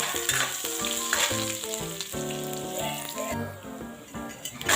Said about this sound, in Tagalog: Igibusama muna po yung sibuyas at saka yung bawang dyan.